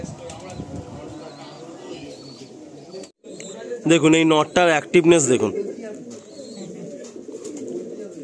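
Pigeons cooing close by at a pigeon sale, soft throaty coos that rise midway, with someone talking over them.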